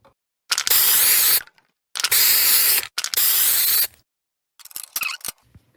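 Three steady hissing bursts of non-stick cooking oil spray coating containers, each roughly a second long, followed by a few short clicks and rattles.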